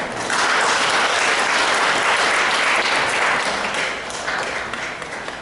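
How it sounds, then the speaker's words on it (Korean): An audience at a legal forum applauds steadily for several seconds, a dense wash of clapping that tapers slightly toward the end. "큰 박수로 환영해 주시기 바랍니다."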